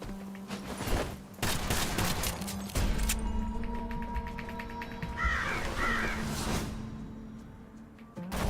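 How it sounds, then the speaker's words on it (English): In the video game Kill the Crows, witch crows being killed let out squawking, chicken-like death cries. These come in short bursts over a bed of rapid gunfire and game music, with no talking. "I like how the witch crows make like a chicken noise when you kill them"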